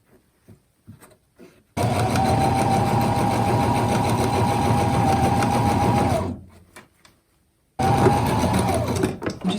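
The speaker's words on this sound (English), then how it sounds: "you're going to sew on this edge all the way across" A sewing machine stitches along the edge of a soft fabric face mask in a long, loud, even run of about four and a half seconds. It stops for a brief quiet gap, then starts again close by.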